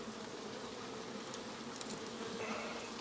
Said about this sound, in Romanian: Deci era catul plin de albin.